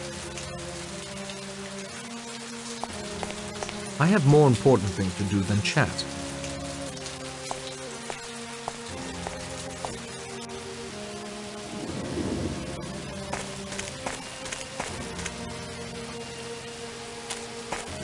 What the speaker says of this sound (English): Just a drizzle.